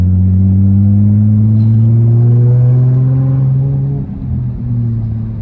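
A Chrysler 300 revs hard during a burnout, its engine holding a loud, steady drone that rises in pitch and then dips briefly near the end, close by with no talk over it.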